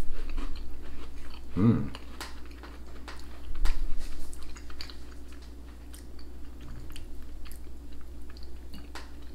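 Bites and chewing of a McVitie's caramel and milk chocolate digestive biscuit, soft close crunches at intervals, with a brief murmur.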